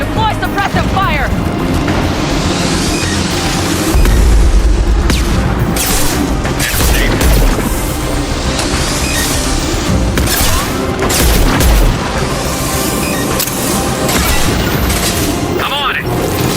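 Mass Effect 2 firefight with sustained suppressive gunfire and repeated heavy explosions booming throughout, loud and chaotic, with voices calling out over the din.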